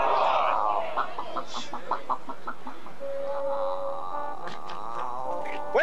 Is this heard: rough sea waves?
no